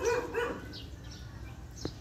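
Small dog barking nearby in a backyard pool setting, a couple of quick yaps at the start followed by softer whimpering sounds and a faint sharp click near the end.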